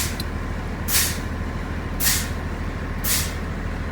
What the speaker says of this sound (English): So for this test, I'm going to pump the brakes